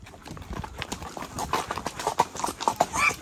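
A horse's hooves clip-clop in a quick, steady rhythm during a ride. The sound is fairly quiet and close, with a faint voice in the background.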